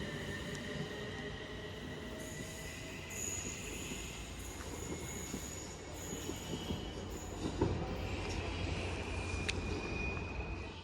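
A passenger train pulls out of Stoke-on-Trent station toward Crewe, giving a sustained, moderately distant rumble of rolling wagons with thin, high wheel squeals and occasional clicks over the rails.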